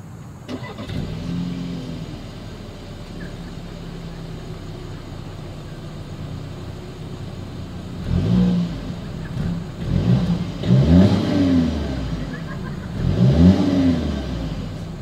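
Volkswagen Atlas engine idling steadily at first, then revving in several rising bursts from the exhaust, heard close and alone without talk.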